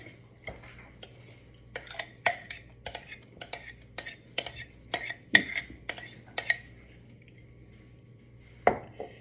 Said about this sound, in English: you're gonna take your mashed bananas and another spoon, and you're gonna scoop it in